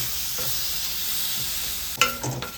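Tomatoes frying in a pan for wheat noodles produce a steady sizzle that ends in a sharp clatter and scrape of stirring.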